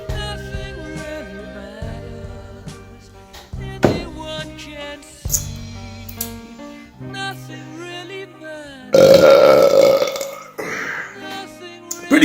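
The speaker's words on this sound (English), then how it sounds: "If the beer doesn't make you burp," Long, loud, drawn-out burps after drinking Bohemian Raspberry beer, several croaking belches stretching over many seconds, close to the mic with one especially forceful, rough burst near the end.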